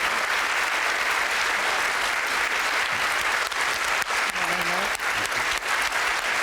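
A studio audience at a televised budget panel discussion claps loudly and continuously, dense close applause filling the whole stretch, with a few brief voices rising through it.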